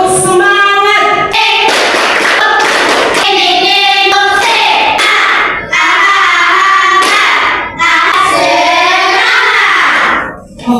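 Elementary school children clap together in a quick rhythmic pattern while chanting in unison, the claps and voices loud and close.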